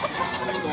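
A handsome yellow-legged bullstag rooster clucks in short, close bursts, the sound dense and continuous through the brief moment.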